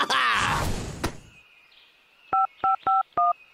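In a cartoon, a phone number is tapped out on a keypad: four crisp, evenly spaced dialing tones follow a burst of excited speech and a short pause.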